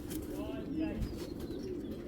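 Bagha pigeons, including a hen, coo in low throaty rolls close by while someone talks over them, with light rustling and faint chirps in the background.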